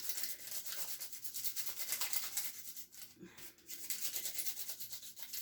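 A permanent marker rubs quickly back and forth over a paper cupcake liner in soft, close scratchy strokes, faint and continuous with brief pauses, and no talking.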